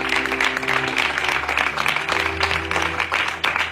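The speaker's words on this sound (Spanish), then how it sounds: "¿Cuánto le aplaude fuerte a la ley y la palabra del Señor?" A church congregation claps loudly and continuously for several seconds during a Spanish-language sermon, a dense steady applause with a sustained organ or keyboard tone underneath.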